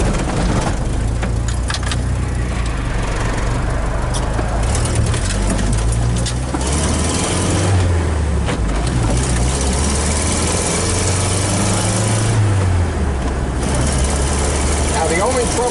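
A 1993 Jeep engine runs steadily while driving, with a continuous low rumble and rising and falling revs as gears are shifted without a clutch, loud and close with no talking.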